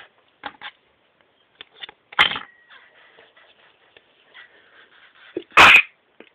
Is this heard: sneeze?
yes